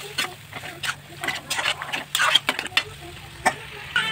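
Chicken meat is stirred in a sizzling pan. Uneven bursts of scraping and frying crackle come in irregular strokes, fairly close, above a low background hum.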